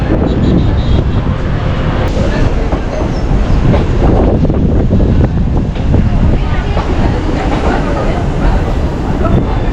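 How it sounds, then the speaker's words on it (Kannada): A train runs along the rail line near Yelahanka Junction on the Bengaluru city to airport route, making a loud, steady rumble with occasional wheel clatter and buffeting wind noise throughout. "ನಮ್ಮ ಟ್ರೈನ್ ಇವಾಗ ತಲುಪಿದೆ ಯಲಂಕ ಜಂಕ್ಷನ್ಗೆ"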